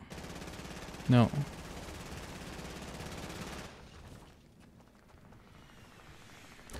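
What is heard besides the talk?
gunfire in the video game Fortnite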